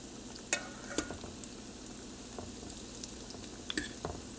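Falafel balls frying in hot oil are turned with a spoon, giving a steady soft sizzle broken by a few sharp scraping clicks.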